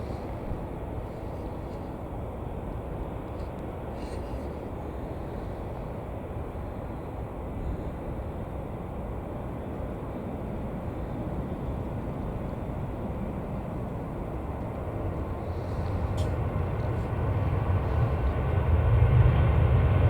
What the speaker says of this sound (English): Just gone past was a 737-800 Norwegian going to Oslo.